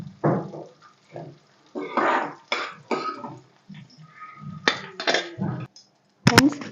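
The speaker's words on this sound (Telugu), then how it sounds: "వీటిని మిక్సీ జార్లో తీసేసుకుంటున్నాను." Fried green chillies are moved from a kadai into a mixer jar with a spoon, giving sparse scrapes and bright metallic clinks close by, ending in a sharper clatter.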